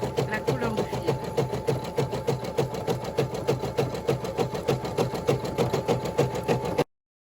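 An embroidery machine stitches a design in steady, rapid rhythmic pulses, loud and close, running continuously without talk before stopping abruptly.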